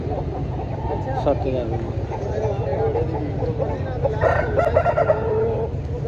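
An Aseel rooster crows a couple of times at moderate distance over a steady background hum, with other birds faintly clucking.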